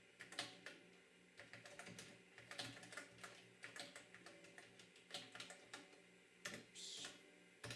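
Rapid, irregular keystrokes on an Apple Lisa 2/5 computer keyboard, close and clear, with clustered clicks and short pauses over a quiet room.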